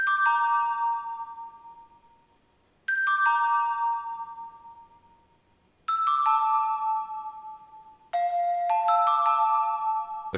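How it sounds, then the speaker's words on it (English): A dry foreign bell one-shot from Trifreeze's trilogy kit, with no effects, plays a slow melody of bright, chiming bell notes. Each note is struck cleanly and decays over a couple of seconds in a quiet space. "Now I have the foreign bell, and this is from Trifreeze's trilogy bundle"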